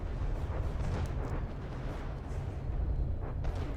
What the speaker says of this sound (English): We are currently broadsiding a crossbones with 250mm guns